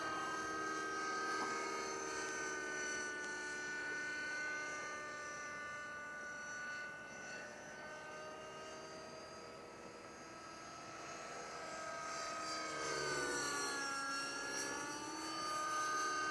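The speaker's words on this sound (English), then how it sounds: "We'll try another loop here. This thing will fly upside down." A T-REX 600 radio-controlled model helicopter's high rotor whine and engine buzz hold steadily throughout, pitch dipping and rising as it loops and flies upside down nearby.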